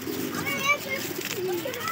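Pigeons cooing in a breeding cage, soft rolling coos close by over a faint background.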